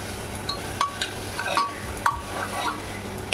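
Mutton being stir-fried in a pot, with a metal spoon scraping and clinking against the sides in irregular strokes over a soft background sizzle, close and fairly quiet.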